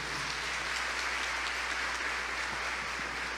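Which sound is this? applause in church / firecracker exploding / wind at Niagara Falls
applause in church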